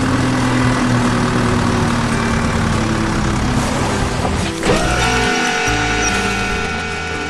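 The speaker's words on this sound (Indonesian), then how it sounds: "Lihat betapa kuatnya mesin itu. Batu-batu besar hancur berkeping-keping menjadi tumpukan puing." Excavator engine working on large rocks at a canal construction site, a steady loud diesel drone with shifting revs and occasional clanks, ending in a lower, quieter idle.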